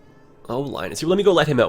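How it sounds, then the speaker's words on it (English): A pet cat named Linus meows indoors, a few drawn-out, wavering cries close to the microphone, overlapping someone speaking. "my poor cat is meowing in the background"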